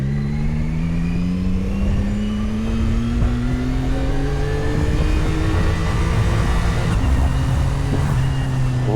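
A new CFMOTO 675 SR-R sports motorcycle engine runs steadily close by, a continuous mid-pitched drone with a slowly rising tone, heard alone without talk.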